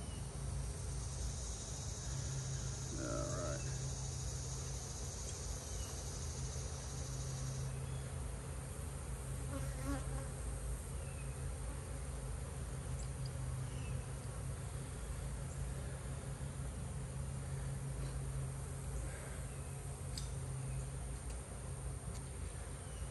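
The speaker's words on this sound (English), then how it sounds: "as the bees hatch, they're coming out right there." Honey bees buzz at a farm apiary as a soft, steady hum that runs throughout the clip, with no voices over it.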